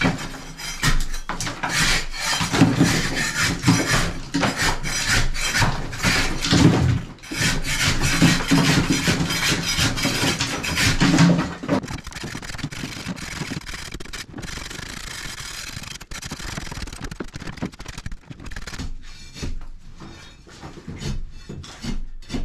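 Rough, continuous scraping and rasping of a floor scraper against a wall in an old flat under renovation, loud and uneven for about twelve seconds, then quieter intermittent scrapes with short pauses.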